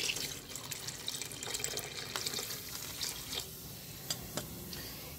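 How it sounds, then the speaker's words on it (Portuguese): Roughly 500 ml of water is poured into a pan of beef stroganoff, giving a close, continuous splashing stream with a few light clinks, with no one talking. "Agora eu vou colocar água até cobrir."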